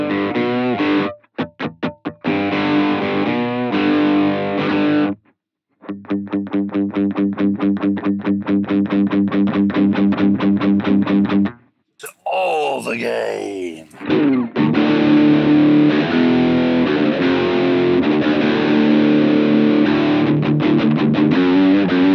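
Heavily distorted electric guitar through a LEKATO mini amp, played in chugging bursts and sustained chords, loud and close, with a brief noisy effect swell midway.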